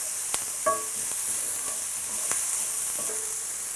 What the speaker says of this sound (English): And just saute that just gently for about a minute.